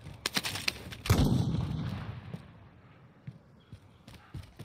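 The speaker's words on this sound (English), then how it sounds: "Sniper is extremely loud" A sniper rifle shot in the video game Call of Duty: Warzone goes off as one loud, sharp crack with a long rumbling tail, followed by scattered fainter shots and thumps in the distance.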